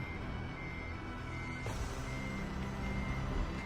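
Truck reversing alarm in a trucking game, a steady repeating beep over a low rumbling engine, fairly faint, with a brief air-brake hiss partway through and no talk.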